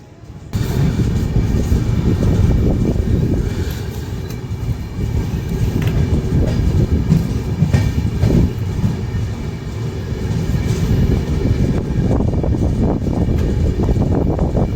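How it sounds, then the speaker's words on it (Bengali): Loud, continuous rumble of an LHB-coach Radhikapur Express train departing Nabadwip Dham station, with rattling wheels and a faint rhythmic clickety-clack, sustained throughout from close by. "আমাদের ট্রেন নবদ্বীপ ধাম রেল স্টেশন ছেড়ে চলে যাচ্ছে"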